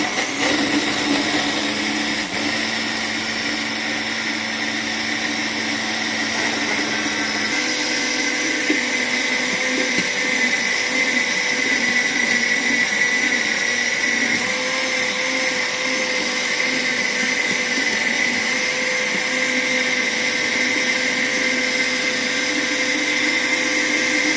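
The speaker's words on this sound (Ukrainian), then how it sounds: "Ось я його включаю на максимальну." A Philips kitchen blender runs at maximum power, a loud, steady high-pitched motor whine with a strong droning hum that shifts pitch slightly after a few seconds and holds continuously throughout.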